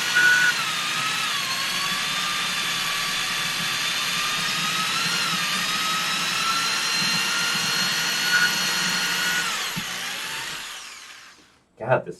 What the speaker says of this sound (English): God, this drill is shit.